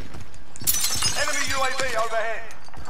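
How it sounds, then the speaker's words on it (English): Glass shattering in the Warzone battle royale video game, a sharp crash followed by tinkling fragments, heard alongside game noise and talking players. "Be smashing glass."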